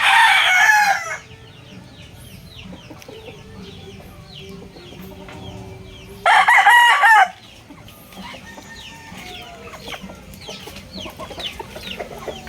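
A Classic White Kelso gamecock from a game farm lets out two loud, close crows several seconds apart, with quieter clucking and other birds calling in the background between them.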